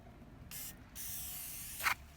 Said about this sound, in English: We're going to clean it with Brakleen.